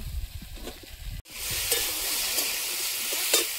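Small fish go into hot oil and set off a sudden, loud, steady sizzle that fills the rest of the moment after a quieter pan crackle, close and continuous with no voices.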